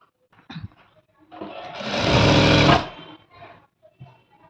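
Sewing machine stitching the side slit of a dress, a steady whirring run of about a second and a half building loud and close, with softer brief machine bursts before and after and no talk.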